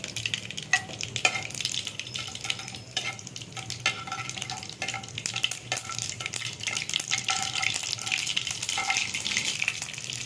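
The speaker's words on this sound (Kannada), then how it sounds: "ಎಣ್ಣೆ ಕಾದಿದೆ. ಸಾಸಿವೆ ಹಾಕ್ತಾ ಇದ್ದೀನಿ." Mustard seeds sizzle and crackle in hot oil in a pan while a tomato and capsicum gravy is started, with a steady close hiss and scattered sharp pops and scraping throughout, no talking.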